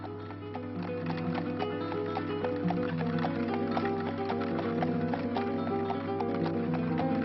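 A horse's hooves clip-clopping steadily along a stony path through the Causse countryside, a regular close walking rhythm with no one talking.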